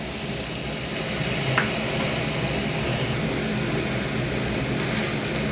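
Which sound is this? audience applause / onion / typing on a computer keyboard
onion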